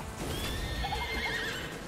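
A horse from the Miitopia video game's Horse Whispering skill lets out a single drawn-out whinny with faint hoof clip-clop, fairly quiet and on its own.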